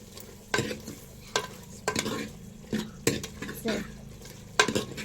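Chicken curry stirred in a frying pan with a metal spoon, a run of sharp scraping knocks and clinks at an uneven rhythm over a low sizzle, close and fairly loud.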